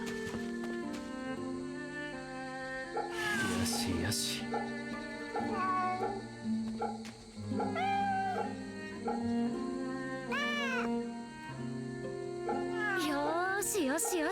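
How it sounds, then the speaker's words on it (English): A cat in the video game Fate/Samurai Remnant gives a few rising and falling meows over a bed of game music, with a voice speaking softly to it in between. "Oh, kitty cat."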